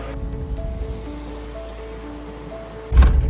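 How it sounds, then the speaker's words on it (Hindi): Rain falls outside during a return journey from Kedarnath, a soft continuous patter and hiss with faint steady tones underneath, ending in a louder close thump. "बारिश हो रही है बाहर।"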